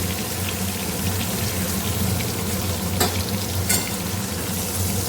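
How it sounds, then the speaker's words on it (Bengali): Paneer pieces fry in hot oil, giving a steady close-up sizzle with a couple of sharp spattering crackles partway through, and no one speaking. "ওই তেল গরম হয়ে গেছে। এবার পনিরগুলো ভেজে নেব।"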